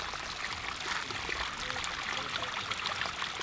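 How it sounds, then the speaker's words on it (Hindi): Dirty sewage water pours steadily into a lake, a continuous rushing, splashing flow heard close and fairly loud. "गंदा पानी या रिसाव, गंदे पानी का रिसाव झील में हो रहा है।"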